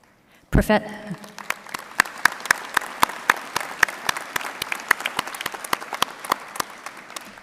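Applause at a university convocation ceremony starts with a sharp burst and carries on as steady, lively clapping from a good-sized audience, claps crisp and evenly dense throughout.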